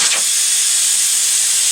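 Steam rushes out in a loud, steady hiss as the weight is lifted off a pressure canner holding turkey, a continuous close blast that stays constant throughout.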